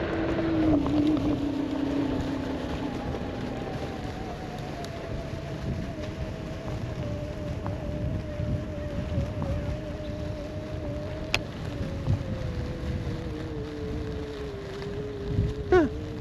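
Low whirring hum of a NIU KQi Air electric scooter ridden at full speed across grass, with wind buffeting the microphone and a steady motor tone that slowly drifts lower.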